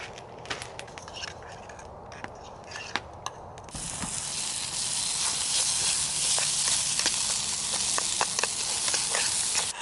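Oats fry in butter in a pot outdoors, first as scattered clicks and scrapes of stirring, then as a loud, continuous sizzle with sharp crackles, close by.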